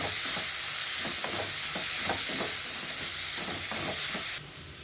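Grated coconut and green chillies fry in a pan of oil, a loud steady sizzle broken by rhythmic stirring scrapes, ending in a brief steamy hiss.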